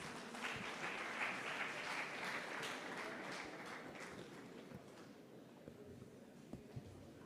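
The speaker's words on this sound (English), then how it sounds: "a round of applause." An audience at an education awards ceremony in Rwanda applauds steadily, faint and somewhat distant, slowly thinning toward the end with a few scattered claps.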